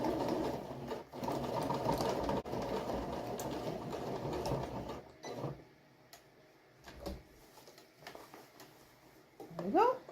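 A sewing machine stitches the corner of a flanged pillow in a steady whirring run, then stops for brief starts and adjustments while someone talks over it.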